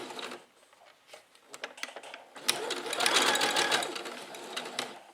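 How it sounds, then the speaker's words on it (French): A sewing machine stitches a simple or double hem in bursts of rapid, rattling needle strokes, stopping and restarting briefly before one longer continuous run, close and moderately loud. "Et je continue ma couture."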